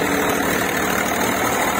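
An Eicher 485 tractor engine idles close by, a steady, loud rumbling drone with an even mechanical texture and no pauses.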